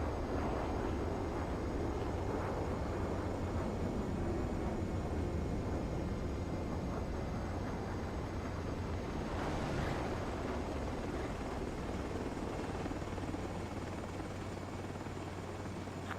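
A jet aircraft in the Ace Combat 7 video game rolls down the runway after landing, its engine a steady, moderately loud roar that holds for the whole stretch, with no voices.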